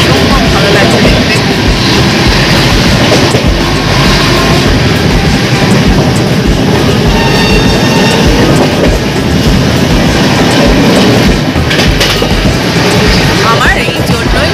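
An overnight express train from Bangalore to Kolkata (12864 Yesvantpur–Howrah) moves at speed, a loud, continuous rumble with rhythmic wheel clatter heard up close from on board throughout.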